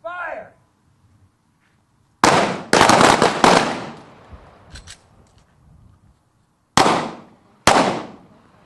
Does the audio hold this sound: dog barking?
no